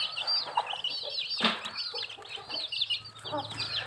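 Chicks from a single brood peep and cluck rapidly and continuously at close range, with one short thump partway through.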